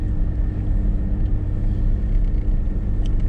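A vehicle climbs a steep snowy road with a constant, heavy, low engine rumble close by, joined by faint tire and body noise and occasional light knocks.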